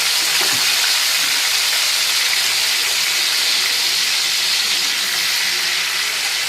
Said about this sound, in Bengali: তো এইভাবে আস্তে আস্তে সমস্ত চিকেনগুলোকে আমি এখানে দিয়ে দেব।